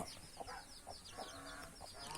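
Mother goose and her goslings on a Thai farm, with repeated soft clucking, chirping calls coming in short bursts against a steady rustling farmyard background, moderately close.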